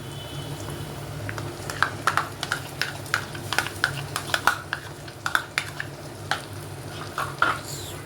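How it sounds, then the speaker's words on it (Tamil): Tomato paste sautéing with onions in a pan, a soft steady sizzle under repeated scraping strokes and taps of a spoon against the pan, close and fairly quiet with no talking. "இந்த தக்காளி பேஸ்ட் வந்து நல்லா வதங்கணும்."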